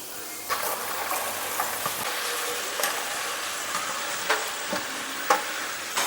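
Chopped cabbage being stirred and sautéed in masala in a pan for a cabbage gravy: a steady frying sizzle runs throughout, broken by several sharp scraping spoon strokes at an uneven pace, close and fairly loud with no talking.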